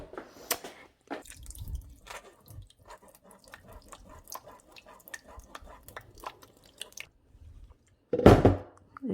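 Homemade birria sauce full of tomato seeds is pushed through a strainer with a spatula: close, wet scraping and squishing with irregular drips and splats, ending in a louder messy slop.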